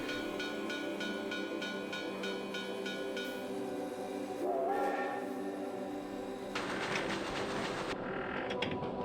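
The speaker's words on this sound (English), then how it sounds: "we get a cutscene of a man boarding a train" A train in a cutscene from a FromSoftware psychological horror game, as a man boards it: low rumbling and creaking carriage sounds under sustained tonal ambience, with a sharper metallic burst later on.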